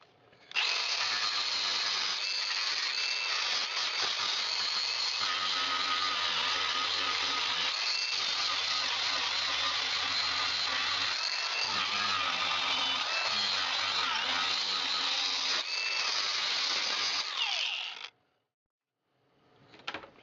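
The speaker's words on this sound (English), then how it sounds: "Just going to give one last sanding here to make sure I haven't left any high spots" A power sander runs nearly nonstop on a repaired boat deck while rotten deck cores are being replaced, a loud, steady whine with brief dips, then it cuts off near the end.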